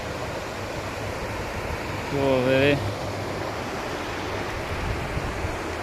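Canal water flows through a gate in a steady broad rushing wash heard up close, while someone speaks briefly partway through.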